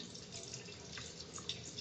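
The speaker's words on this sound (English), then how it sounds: "And now I'm going to open test cock number 4. Water's going to come out of the sight tube." Water runs steadily out of the sight tube on a backflow preventer test cock, a soft continuous trickle and splash close by with faint drips over it.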